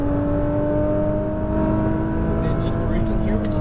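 A Nissan GT-R Premium on a race track in Las Vegas, its engine droning loud and steady from inside the car with a rising pitch as the power comes back on, while someone talks over it.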